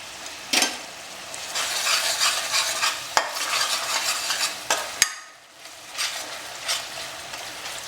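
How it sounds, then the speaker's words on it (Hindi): Two spoons of ginger garlic paste fry in a pan for chicken biryani, a bright crackling sizzle broken by several sharp scrapes and knocks of a spoon as it is stirred, fading briefly before rising again. "हमारा जो इंग्रेडिएंट है, मेन इंग्रेडिएंट है, लहसुन अदरक का पेस्ट 2 चम्मच डाल देते हैं।"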